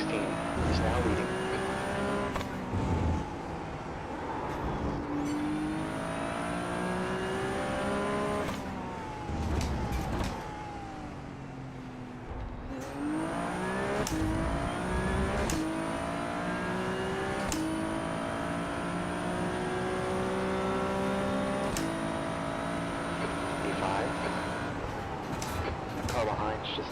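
Race car engines in the iRacing simulator, loud and continuous, with revs rising and falling through gear changes and brief lifts, alongside tire noise over the full stretch.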